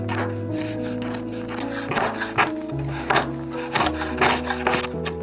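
Knife finely mincing lemongrass on a cutting board, a run of quick uneven chopping taps and scraping strokes, close and clear with a steady hum underneath.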